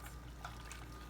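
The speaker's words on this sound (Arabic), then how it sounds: "كوبين من المي المغلي حتى نذوب بيه الحليب" Boiling water is poured into a pan to dissolve milk powder for pistachio pudding, giving a steady, close liquid splash with a low rumble underneath during a brief moment.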